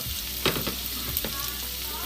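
Crushed ginger frying in a pan as it is stirred, a soft continuous sizzle broken by a few quick scraping strokes of the spoon.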